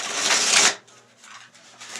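A quick riffle of tarot cards being shuffled, a dense papery burst up close, followed by softer, intermittent card shuffling and handling.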